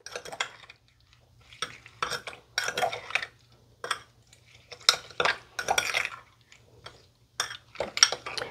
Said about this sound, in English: So you just want to get that stirred up so you can get most of that sugar dissolved away.